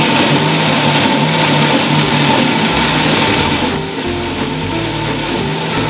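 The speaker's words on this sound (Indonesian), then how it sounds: "Ini kita blender selama 1 menit lagi ya guys." Blender chopping large red chili peppers whirs loudly and continuously up close, its motor pitch shifting slightly as the load churns, with no talking.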